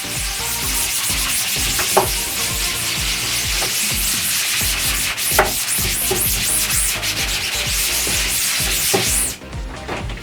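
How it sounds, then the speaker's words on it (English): A scrub pad scrubbing a screen printing screen coated with dehazer, a loud, steady, close rasping rub with rhythmic back-and-forth strokes and a few sharper accents, stopping abruptly at the end. "You scrub the back, then you scrub the front."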